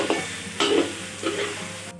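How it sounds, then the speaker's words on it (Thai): Red curry paste stir-fried with pork in a pan for a Thai jackfruit curry, with close sizzling and repeated scraping stirs in short bursts, no talking. "ค่ะเราผัดพริกแกงเผ็ดให้หอมนะคะ"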